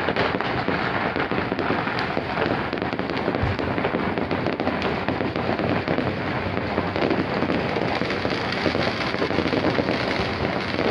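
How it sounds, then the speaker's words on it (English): Fireworks over Kuala Lumpur city burst in a dense, continuous crackling barrage, loud and steady throughout with no single pops standing apart. "The beautiful city of Kuala Lumpur was bombarded by an alley of multi-dimensional fireworks"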